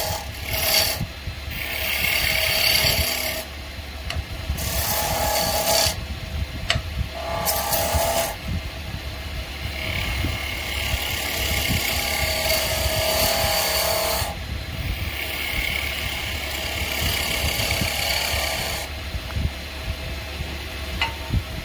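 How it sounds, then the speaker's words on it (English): Wood turns on a lathe against a spindle roughing gouge while a small Christmas tree is shaped, making repeated bursts of rough scraping and rasping over a low, constant motor hum. "Now you can go back to spindle roughing gauge. You want to make a conical shape first."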